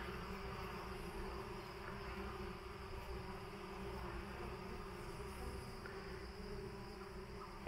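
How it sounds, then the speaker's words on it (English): A dense, steady hum of many honeybees buzzing together at a hive, faint and continuous, with no talking. "Busy little hive."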